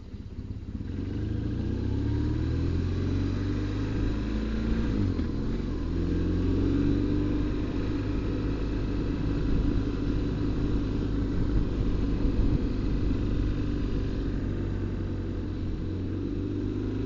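A motorcycle rides along a Shetland island road on the way to Laxo, its engine droning steadily and close with shifting revs, and wind rushing under the engine the whole way through.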